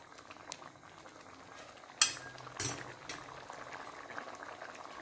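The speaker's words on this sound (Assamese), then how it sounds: "দেখিছে ধুনীয়াকৈ উতল আহিছে। দালিখিনি সিজি গৈছে।" Dal bubbling at a rolling boil in a pot, a steady soft seething burble with a couple of sharper clinks or splashes partway through, close and quiet with no talk.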